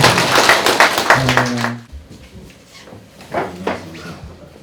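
A crowd at a Buddhist temple plaque-hanging ceremony gives a short burst of applause that fades quickly, followed by quieter rustling, scattered taps and murmuring voices in a cold outdoor setting.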